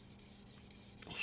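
A kitchen knife blade being honed on a 600-grit sharpening stone, giving a soft, steady rasping rub that runs close and quiet throughout, swelling slightly louder near the end.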